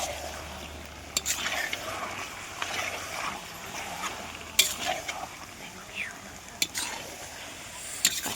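Mutton and potatoes with chui jhal are stirred in a large pot, 2.5 kilos of meat, giving a soft steady sizzle with occasional sharp scrapes and clanks of a spoon against the metal.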